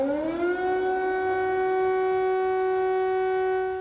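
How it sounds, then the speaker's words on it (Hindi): An air raid siren in Kyiv during a Russian missile attack holds a loud, steady wail after a brief rising start, sounding alone and unbroken. "कीव एयर अलर्ट के सायरन से गूंज रहा था"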